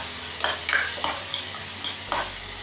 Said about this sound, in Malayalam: നമുക്കിതിനെ ഒന്നും കൂടെ ഒന്ന് ഫ്രൈ